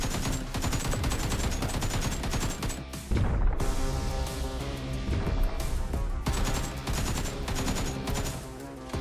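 Sustained gunfire from a firearm in the video game Survive and Rise, dense rapid shots with a brief burst near three seconds, loud and continuous alongside game music with no pause throughout.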